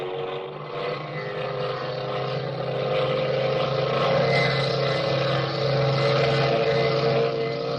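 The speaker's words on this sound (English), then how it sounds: "Two planes screaming through the darkness toward the ground." Propeller planes dive through darkness toward the ground in a 1935 radio drama, a steady, loud engine drone that swells and holds throughout, with no voices over it.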